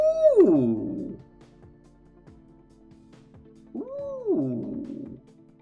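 Two drawn-out cat meows sound inside a video game, one starting right away and a second after a pause of a few seconds, each rising then falling in pitch, fairly loud and clear with no talk over them.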